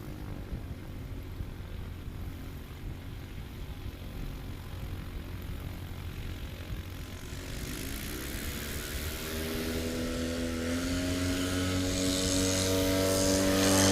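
A Legend Aircraft MOAC STOL plane at a short-takeoff competition runs its engine up to full throttle, the propeller drone rising steadily in pitch and loudness as it takes off, heard alone without talk.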